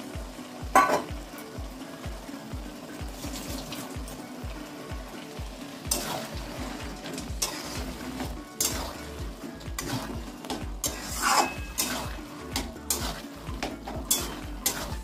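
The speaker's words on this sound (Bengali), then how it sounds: "এখন আমি বন্ধুরা এই নারকেল কোড়াটা দিয়ে দেবো, নারকেল কোড়ার সঙ্গে কষিয়ে নেব" Grated coconut and taro leaves sauté in a pan, with a continuous sizzle broken by repeated scraping and clattering stirs of a utensil against the pan, close by and without talk.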